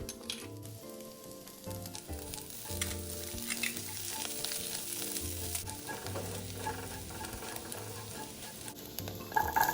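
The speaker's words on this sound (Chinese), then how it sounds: "蔥末爆香後，再將備好的蒜末與薑末也一起加進來爆香" Chopped shallots, garlic and ginger sizzle and crackle in hot oil in a wok, frying steadily with a continuous loud hiss and occasional stirring scrapes.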